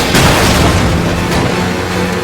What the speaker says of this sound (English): Close to the explosion.